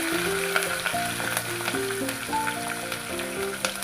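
Dried red chillies, crushed garlic cloves and curry leaves with stems fry in oil for a tomato rasam, giving a continuous soft sizzle with faint crackles under a steady melodic background tune.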